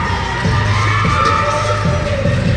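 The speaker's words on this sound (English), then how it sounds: "Did you hear this crowd explode?" A wrestling event crowd roars and cheers loudly and continuously, a dense wash of shouting voices filling the arena with no pauses throughout.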